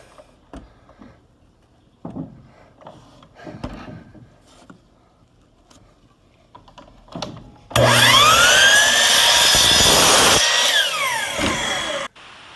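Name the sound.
power saw cutting plywood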